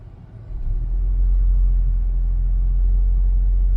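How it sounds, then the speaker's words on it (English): A car engine turns over and catches after about half a second, settling into a loud, steady low rumble at idle, close by with no talk. "I am about to turn the car on, and I'm hoping for the best."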